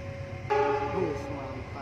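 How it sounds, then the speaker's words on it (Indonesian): A parcel train's horn sounds close by at a level crossing near Cibatu, Garut, a sudden loud tonal blast cutting in over a background of rumble and distant voices. "kereta parsel pukul 6 lewat 59 setelah tertahan sinyal"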